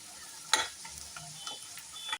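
An Arabian stuffed rice roll frying in a pan after being flipped, a soft close sizzle broken by a sharp spatula scrape and a few light clicks of handling, no voices.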